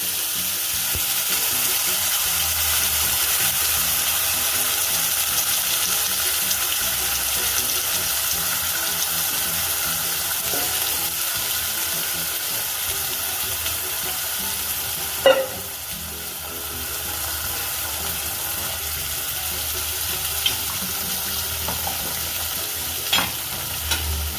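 Onion and garlic paste fries and is stirred in hot oil, producing a loud, continuous sizzle with occasional scraping stirs and a few sharp clinks from the utensil against the pan.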